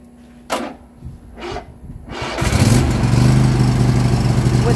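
A Cub Cadet XT2 Enduro lawn tractor, newly fitted with a replacement key switch, gives two short cranking attempts before its engine starts. It then settles into a loud, steady close-up running drone.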